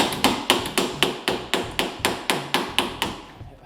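Metal hammer blows strike a Polaris RZR front end part at a steady rhythm, about a dozen sharp close taps, each ringing briefly before the next.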